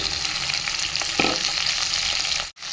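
Okra fries in a pan with a steady close sizzle, a stirring scrape cutting in partway through, and the sound briefly drops out just before the end.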